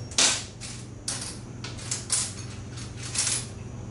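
Small metal screws are picked up from a container in a garage workshop during a DIY wind turbine build. A few close, light metallic clinks and rattles sound over a low steady hum.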